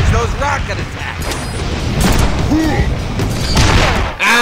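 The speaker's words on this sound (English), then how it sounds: "Remember, you have a teleporter to dodge those rocket attacks." Rocket explosions boom in a Deadpool video game, with loud layered blasts, crashes and mechanical clatter filling a busy game soundtrack while character voices shout over the chaos.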